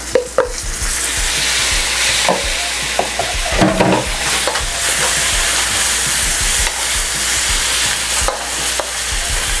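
Tomatoes added to a hot pan for pork masala, a loud steady sizzle with repeated scraping stirs and clacks of a utensil against the pan.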